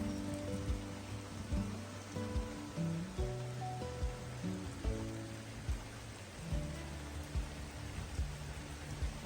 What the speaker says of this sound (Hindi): शोर इतना आ रहा है बारिश का, बहुत तेज बारिश हो रही है।